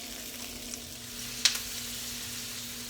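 Beans blister in a hot pan with a faint, steady sizzle and crackle throughout, broken by one brief sharp tick near the middle, over a low steady hum.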